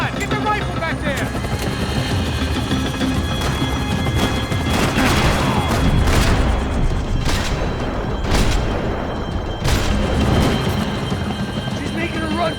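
Rapid rifle gunfire in Max Payne 3 crackles in dense bursts over a constant helicopter rotor drone, loud and chaotic, with shouting voices mixed in.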